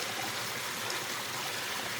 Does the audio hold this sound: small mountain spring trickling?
yes